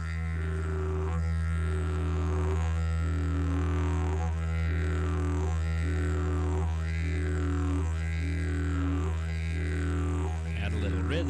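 A didgeridoo holds a constant low drone while a repeated voiced tone falls and then rises, forming seven or eight regular swooping cycles, close and steady, with no talk.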